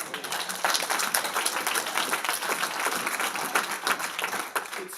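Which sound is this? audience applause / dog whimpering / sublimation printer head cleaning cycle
audience applause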